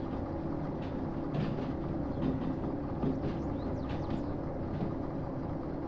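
A diesel locomotive idles in the Derail Valley train simulator game, giving a steady low, continuous engine rumble that holds even throughout with small fluctuations and no talk over it.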